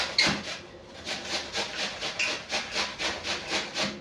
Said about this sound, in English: We are going to grate our apple.